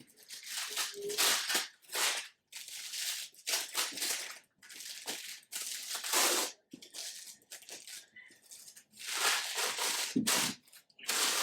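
Crisp tissue paper being peeled off a wedding album by gloved hands, a run of close, dry crinkling and rustling bursts with short pauses between them.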